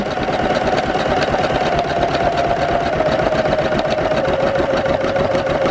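An embroidery machine stitching gold lettering onto a bag chatters in a loud, rapid, continuous rhythm with a steady motor hum, heard close and alone.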